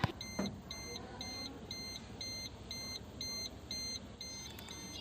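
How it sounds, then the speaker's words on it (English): A car dashboard warning chime beeps in a steady series of about nine evenly spaced short tones after a single knock, faint and alone in a quiet cabin. "why it is beeping?"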